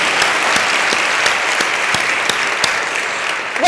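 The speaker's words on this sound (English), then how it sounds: "We should give these two a round of applause for pulling it together." Applause from the audience at a work-life summit event rolls on steadily, a loud, close mass of clapping with a few sharper individual claps standing out, holding level throughout.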